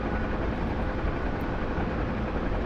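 A Kiowa helicopter in a video game gives a steady, even whirring drone throughout, fairly quiet and unbroken, with no voices.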